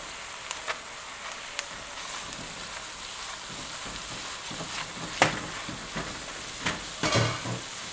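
Ground meat browns in a hot pan for keto taco stuffed peppers, giving a steady close sizzle dotted with small pops, with a few sharper crackles toward the end and no talk.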